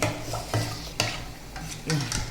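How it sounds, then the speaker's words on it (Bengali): A spoon scrapes and stirs through a mixture in a pan, several rhythmic strokes over soft sizzling, close by. "এটা আমি মিক্স করে চামচ দিয়ে একটু নেড়ে চেড়ে নেব"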